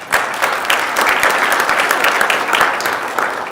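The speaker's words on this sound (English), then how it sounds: "If you could give them a quick round of applause." A quick round of applause in a state Senate chamber for visitors in the gallery: dense, steady clapping from many hands, loud and sustained for a few seconds with no talk over it.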